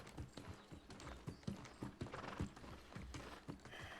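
Horse hooves clip-clopping steadily from a mount in the video game New World, an even rhythmic trot of clear thuds that continues throughout.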